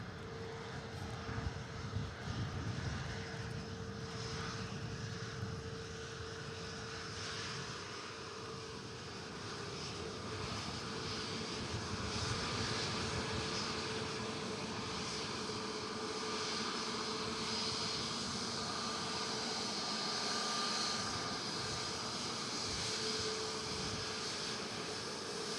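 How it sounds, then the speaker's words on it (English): A British Airways shuttle airliner arriving at Manchester Airport from Heathrow makes a steady, sustained engine roar with a faint whine, holding level throughout under light rain, with no voices. "BA shuttle coming in from Heathrow"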